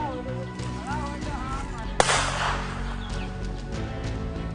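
A single sharp pistol gunshot cracks out at mid-distance against a noisy background, aimed at a dog.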